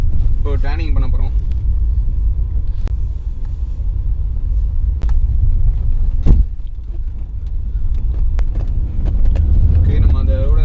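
A Mercedes C-Class E220d diesel car drives and turns, its low engine and road rumble steady under someone talking inside the cabin.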